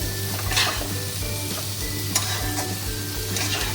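Loite fish jhuri stir-fries in a pan with a steady sizzle and repeated scraping strokes of a spatula against the metal, close and continuous with no talk.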